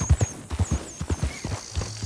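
Horse hooves clip-clopping in a steady trotting rhythm in the Red Dead RP video game, fairly quiet and alone.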